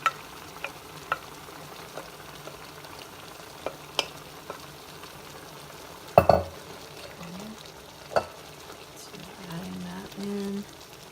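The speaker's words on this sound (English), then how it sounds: "we're going to add in our sausage" Sausage frying in a pan gives a steady, soft sizzle throughout, punctuated by occasional sharp clinks and a louder stirring clatter partway through.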